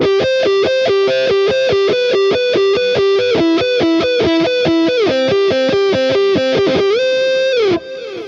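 A distorted electric guitar through a Fractal modeler, tone knob rolled fully down for a muffled, dark tone, plays a fast repeating riff of rhythmic, evenly spaced notes that sound almost synth-like.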